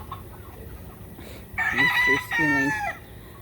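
A rooster crows once, close and clear, a loud drawn-out call rising over quiet farmyard background noise.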